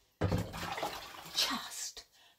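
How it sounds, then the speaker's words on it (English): Water is poured out of a Ninja Speedi cooker in a loud, close gush, then fades to a few trailing splashes. "I've emptied out the water, that's what you could hear."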